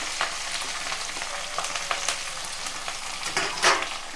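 Green chillies, curry leaves and finely chopped onions fry in hot oil with a steady, close sizzle, broken by occasional stirring clicks and spatters, and no talking.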